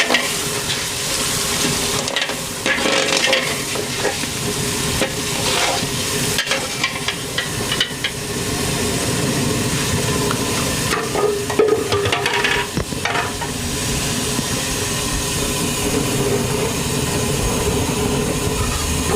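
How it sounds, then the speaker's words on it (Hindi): A tomato and green chili paste being stirred in a large frying pot, with a continuous loud sizzle and rumble and repeated heavy scraping and clanking of the spoon throughout, with no voices. "टमाटर और हरी मिर्च का पेस्ट। इसको मिक्स करेंगे।"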